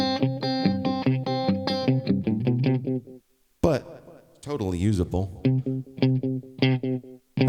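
An electric guitar plays through a Walrus Mako D1 digital delay pedal, its plucked phrases trailed by slightly distorted repeats. After a short pause the playing resumes, and someone briefly speaks in between.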